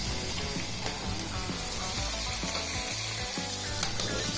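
Mutton bone meat hits a hot pan for a drumstick mutton curry, giving a loud, continuous sizzle and hiss. Background music runs underneath.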